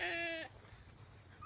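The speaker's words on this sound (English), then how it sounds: "Oh, there's the Jacob sheep." A four-horned Jacob sheep lets out one short, loud bleat at close range, followed by quiet farmyard ambience.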